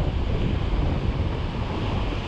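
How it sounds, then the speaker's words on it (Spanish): Two-metre ocean swell washing against a rocky shore near Malpica, a loud steady roar of surf mixed with wind buffeting the microphone, with no voices. "El oleaje, ya os digo, es de 2 metros"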